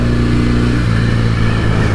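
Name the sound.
1968 Norton Commando 750 motorcycle engine revving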